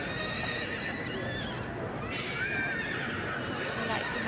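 Mares in a show ring at an agricultural show, with several high whinnies calling out and a light clatter of hooves in a noisy crowd, while a commentator talks over them.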